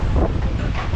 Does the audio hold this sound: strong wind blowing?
yes